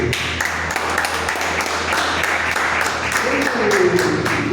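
A church congregation applauds steadily during a service, a dense, continuous wash of clapping at moderate distance, with some voices mixed in underneath.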